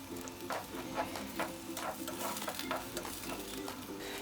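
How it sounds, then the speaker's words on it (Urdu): Minced meat frying with garlic-ginger paste in a hot pan, a steady close sizzle broken by regular scraping stirs roughly every half second, no voices. "اور اب اسے مکس کر کے اچھی طرح بھونیں گے۔"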